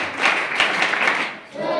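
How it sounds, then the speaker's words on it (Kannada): Audience applause at a religious gathering and blessing ceremony, a dense burst of clapping from a crowd that swells, dips briefly and picks up again near the end. "ಜೋರಾದ ಚಪ್ಪಾಳೆ ಮೂಲಕ"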